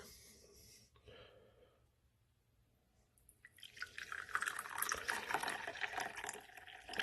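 Pour-over coffee trickles faintly at first, then a fuller pour splashes and gurgles into a cup, growing louder toward the end.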